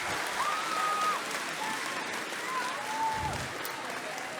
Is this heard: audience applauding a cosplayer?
yes